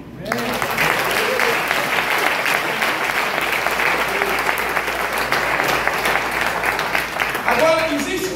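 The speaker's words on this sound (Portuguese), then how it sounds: "Você pode aplaudir?" An audience at a church couples' seminar breaks into loud, sustained applause lasting several seconds, with voices mixed into the clapping.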